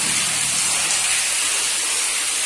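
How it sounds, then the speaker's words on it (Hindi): Water gushes from a borewell drilled at a well near Rajkot, a loud, steady, broadband hiss and rush that never lets up. "एक बोर में अहीं आटलू पानी आवे है"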